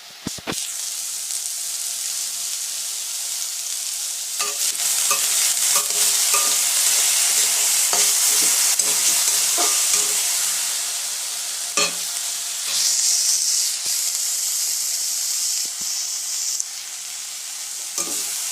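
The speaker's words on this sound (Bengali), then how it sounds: "বন্ধুরা, এইভাবে অবশ্যই নাড়তে আরম্ভ করবেন" Potatoes frying in a pan with salt and turmeric for Bengali alu bhaja are stirred continuously, giving a steady close sizzle broken by scraping and clinking of the spatula against the pan, with no talk.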